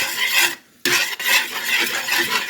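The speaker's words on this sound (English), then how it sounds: "We'll just stir it until it starts to melt." Shredded sharp cheddar cheese is stirred into a dish. A loud, close scraping of a spoon against the pot repeats in strokes, broken by one brief pause.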